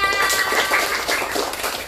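A classroom of students claps hands together after an Islamic studies lesson, a brief burst of close, dense, busy clapping at steady loudness.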